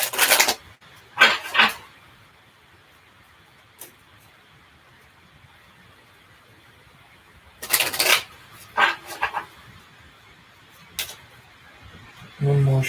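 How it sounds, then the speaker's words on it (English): Tarot cards are shuffled in several short bursts of riffling and snapping, separated by quiet pauses, with one longer flurry near the middle and a soft thud at the end. "I'm just going to finish shuffling these cards"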